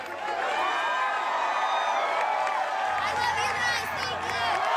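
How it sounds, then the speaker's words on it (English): A large arena crowd at an American Ninja Warrior course cheers and whoops loudly and continuously for competitor Kacy Catanzaro, with a commentator's voice running over the din. "Look at that, the crowd saying they love her."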